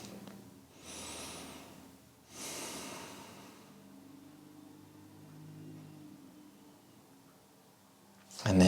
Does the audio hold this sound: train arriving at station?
no